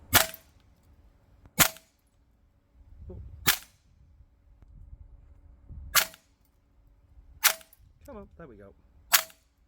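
Tokyo Marui MP7A1 gas blowback airsoft gun on green gas with 0.2 g BBs, fired in six sharp single shots spaced a second or two apart, close and loud, with a brief spoken remark between shots.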